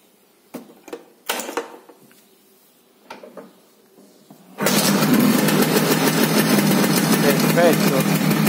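A cold Vespa scooter with a 102 engine block being started: a few short sputtering attempts and quiet clicks, then the engine catches and runs at a loud, steady close-up idle.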